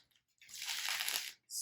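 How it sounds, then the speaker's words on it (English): A deck of reading cards is shuffled on a surface rather than in the hand, giving one smooth sliding, riffling swish of about a second, close and alone, followed by a short brush of contact. "So what I do here is I shuffle. And I don't shuffle them in my hand."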